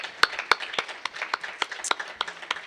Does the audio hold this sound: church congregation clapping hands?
yes